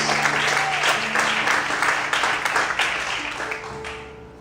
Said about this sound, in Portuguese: Todos podem aplaudir e exaltar a Deus nessa noite